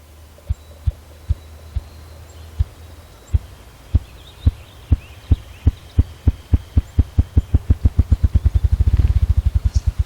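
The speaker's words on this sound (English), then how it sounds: "It cups its wings and beats them against the air to create a low-frequency throb." A ruffed grouse drums its cupped wings in the Canadian wilderness, a series of low, deep thumps that start slow and widely spaced, then speed up into a rapid accelerating roll before fading, alone against a quiet hum.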